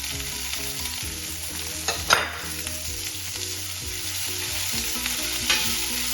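Onions and curry leaves fry in a pan for chicken liver fry, giving a steady close sizzle throughout with occasional scraping stirs of a spoon against the pan.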